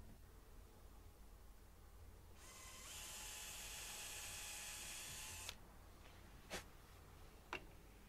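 Big oversized screws being driven into a scrap-wood bottle opener, a steady buzzing drill whir lasting a few seconds, then a couple of sharp clicks.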